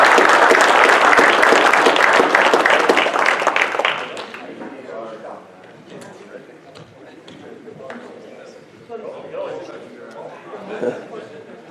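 A banquet crowd at a motorsports awards night breaks into loud, dense applause that fades after about four seconds, leaving scattered claps and murmured chatter in the room.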